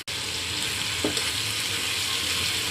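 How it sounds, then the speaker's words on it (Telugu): Fenugreek leaves sizzle and fry steadily in a pan for a tomato methi chutney, a continuous close crackle with a brief stir or scrape partway through and no talking. "ఇప్పుడు పక్కన పెట్టుకున్న మెంతి ఆకులని డైరెక్ట్గా ఇందులో వేసేసి ఇది కూడా మగ్గనియాలి మంచిగా"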